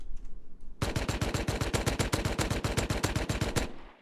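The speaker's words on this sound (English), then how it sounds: "if I try to shoot like a Thompson, for example, even with a laser and maybe this" Rapid automatic fire from a Thompson submachine gun in the survival game Rust, a sustained burst of about twenty evenly spaced loud shots running close and steady for nearly three seconds before stopping.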